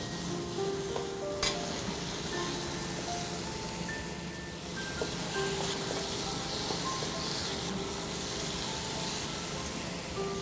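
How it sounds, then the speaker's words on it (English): A sauce with chili flakes and salt cooks in a pan over a medium flame, giving a soft, steady sizzle with an occasional stir and light utensil clink, fairly faint and close. "we'll cook on a medium flame for 2 minutes while stirring it occasionally"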